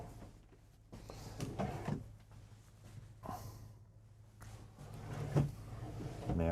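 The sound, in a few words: soft-close dovetail hardwood dresser drawers closing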